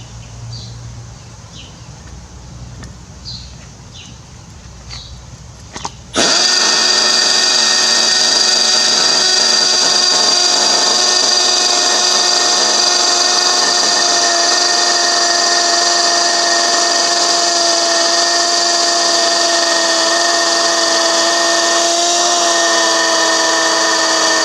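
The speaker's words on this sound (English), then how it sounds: "Now for the Milwaukee hammer drill," A Milwaukee hammer drill bores about 2.5 inches into material, a quiet shuffle first giving way to a sudden loud, steady, high whining drone that holds unbroken close by.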